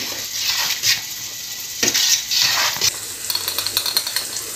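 Sauce in a pan being stirred right after a glass of apple cider vinegar goes in, for a breakfast spread: a soft steady sizzle with a few brief scraping swishes of the spoon, close and alone.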